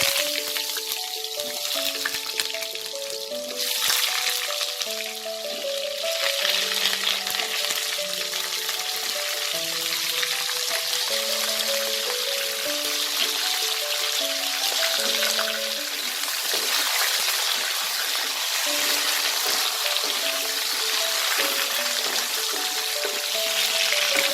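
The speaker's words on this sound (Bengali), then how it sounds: "এবার আমি আলুগুলো দিয়ে দেব" Potatoes fry in oil with a strong, continuous sizzling hiss, steady and close, over a bed of background music.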